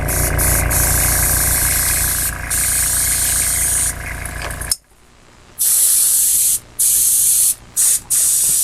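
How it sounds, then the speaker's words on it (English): An airbrush sprays paint onto a hanging monkey figure in long, steady hissing bursts that stop briefly near the middle, then resume in shorter spurts with small gaps between them. "I like doing the airbrushing."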